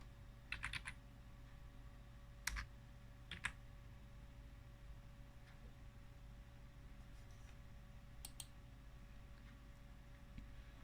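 Computer keyboard typing while entering an address in a web browser, heard as a few short bursts of faint clicking keys spread over a quiet background hum, no talking.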